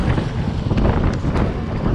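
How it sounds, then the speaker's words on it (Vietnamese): Light wind blows across a microphone on a Saigon city street, a loud continuous buffeting rush with no talking. "Gió nhẹ nhẹ."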